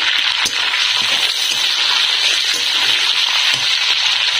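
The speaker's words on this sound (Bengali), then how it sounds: "চিংড়ি মাছ ভেজে রাখা তেলে এবার আমি ফোড়ন দিয়ে দেবো" Bay leaves and dried chillies crackle and sizzle in hot oil left from frying prawns, a dense, steady spattering hiss with occasional sharper pops, close and continuous with no talking.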